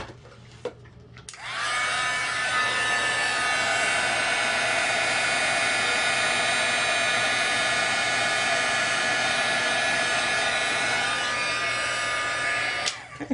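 A heat tool whirs on with a steady, loud fan-and-heater roar while melting gold embossing powder on a paper card, running continuously for about ten seconds before clicking off.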